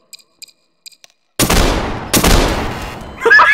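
Gunshots in Garry's Mod DarkRP: after faint ticking clicks, two loud, close blasts ring out about a second apart, each trailing off into a long echoing decay.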